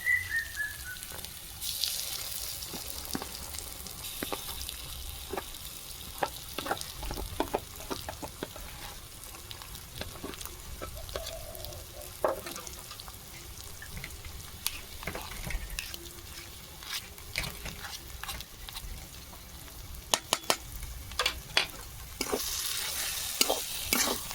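Spices and urad dal fry in a pan with a steady sizzle, punctuated by repeated scraping stirs of a spoon, with no talking.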